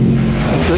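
A classic Ferrari at the Pebble Beach Concours gives a short, loud, close engine rev, a low steady rumble filling the brief moment.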